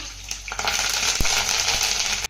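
Green chillies and curry leaves crackle and sizzle steadily in hot oil after popped mustard seeds for a tempering, a dense close hiss with a few sharp pops and no talk.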